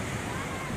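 Sea waves wash at an abandoned beach resort, a brief broadband rush of surf mixed with wind noise on the microphone.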